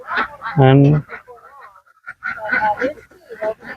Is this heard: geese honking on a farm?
yes